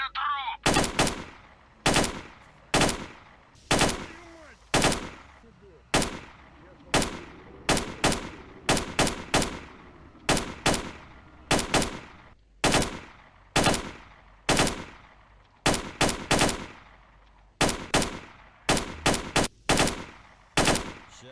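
Rapid bursts of automatic gunfire from the S.T.A.L.K.E.R. shooter game, loud and close, firing in short repeated volleys with brief gaps across the whole stretch, no talking.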